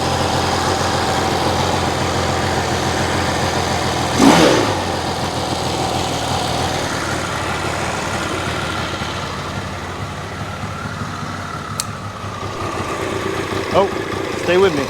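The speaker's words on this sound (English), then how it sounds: "But let's kick it so you can hear it run." A Yamaha GT80 motorcycle, freed from a seized condition, runs after a kick start. The small engine idles steadily and loudly throughout, with a brief rev burst early on and small throttle blips near the end.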